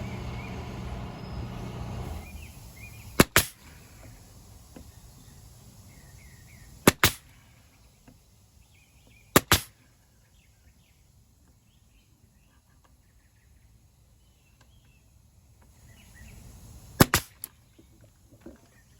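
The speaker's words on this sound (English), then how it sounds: "So we can take our nail gun safely, and we're going to put some nails in her." A nail gun fires nails into a board on an N scale model railroad layout, with four sharp snapping shots spaced several seconds apart over a quiet room.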